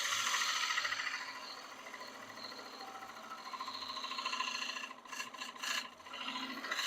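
A woodturning tool cuts a tenon into spinning box elder on a lathe, giving a steady close rasping scrape that runs nearly unbroken, with a few brief gaps and bursts near the end; no voices.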